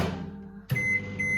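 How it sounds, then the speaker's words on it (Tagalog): A click followed by a single sustained electronic beep from a microwave oven warming a croissant, fairly close, over quiet background hum. "Ilalagay ko lang to sa microwave para ma-warm up siya."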